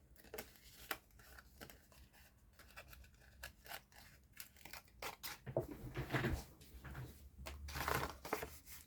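Scissors snip through patterned craft paper for a gift box lid, a run of quick close cuts and scrapes with rustling paper, growing busier and louder toward the end, with no talk.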